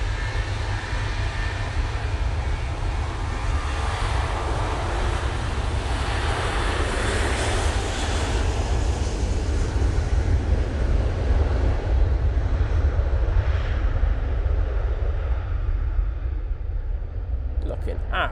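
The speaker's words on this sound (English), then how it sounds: "Air Canada 787-9 Dreamliner now arriving from Toronto." An Air Canada Boeing 787-9 Dreamliner arriving at Manchester Airport gives a steady, broad jet roar that swells gradually and stays loud throughout the landing approach.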